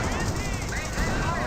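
A .30 cal machine gun emplacement rattles away in Company of Heroes, a steady continuous burst of fire under a busy battle soundscape with a voice in the mix.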